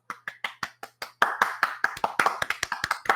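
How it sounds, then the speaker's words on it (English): Hand clapping in a podcast studio starts as a few slow, separate claps, then turns into a louder, quicker run of sharp, close claps with no talking. "if you heard that clapping, it is my guest today"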